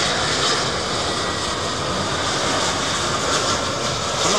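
A Frontier airliner in green livery passes at an airport, its engines giving a steady, loud, broadband roar that holds through the whole stretch without pause.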